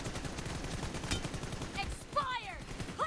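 Bursts of rapid gunfire from the battle royale video game PUBG, a steady crackle of shots through the first half giving way to quieter shots and sharp metallic ricochet-like whines near the end.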